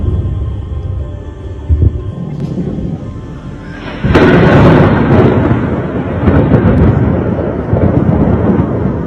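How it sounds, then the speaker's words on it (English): Explosions of war echo across Kyiv, Ukraine's capital: a low rumble builds, then a sudden loud booming blast hits midway and rolls on in heavy, sustained waves of rumbling. "sounds of war could be heard in Ukraine's capital"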